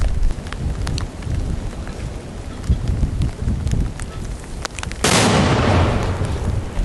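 A mortar round is fired: a sharp, heavy boom bursts out suddenly after several seconds of crackling background noise, followed by a lingering rumble.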